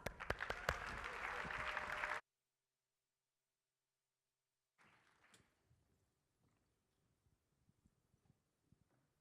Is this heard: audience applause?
yes